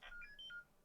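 A phone message notification plays, a short sequence of bright electronic chime tones lasting under a second, quiet and clear.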